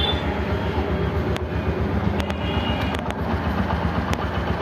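A Bajaj Discover 110 motorcycle in fresh condition with 13,000 km idling nearby, a steady smooth low engine thrum with even rapid pulses and a few faint clicks, with no talking.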